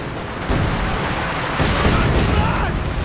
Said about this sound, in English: Light artillery barrage for some reason calling on these conscripts.